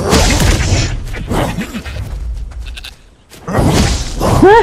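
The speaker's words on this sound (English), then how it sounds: "It's goats! They kill you." Goats in the survival video game Coreborn bleat loudly and close, several wavering cries spread over a few seconds among whooshing and whacking combat sounds.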